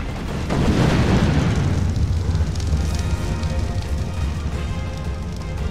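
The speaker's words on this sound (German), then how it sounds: "Ich habe sowas von eben Explosion um mich rum gemacht." Rumbling blasts and crackling booms roll on continuously, loud and dense, explosions around a player riding a Magmasaur in the game ARK: Survival Evolved, Lost Island map.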